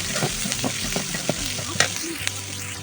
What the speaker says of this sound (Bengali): এই যে রসুন আর পেঁয়াজ কেমন একটু ভাজা ভাজা হয়ে গেছে